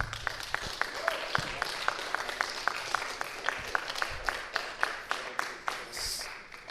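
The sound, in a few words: round of applause for workshop participants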